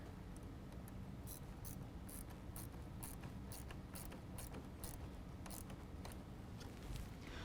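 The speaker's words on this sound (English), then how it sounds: "Tighten that down with a 10mm." A ratchet with a 10mm socket tightening the negative battery terminal on a 2017 Ford F-150 5.0L V8, giving a rapid series of faint clicking pawl strokes over a steady low background hum.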